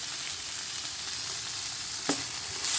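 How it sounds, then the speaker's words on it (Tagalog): Chicken sizzles steadily in a hot pan while being sautéed for Arabic chicken molokhia. The frying is loud and continuous, with a single sharp stir or clank near the end. "So guys, nagisa ko na siya mabuti."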